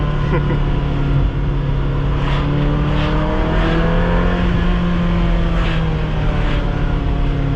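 Inside a Ferrari on the road with traction control off, the engine drones loud and close with gently rising and falling pitch as it revs, a continuous rumble through the whole stretch.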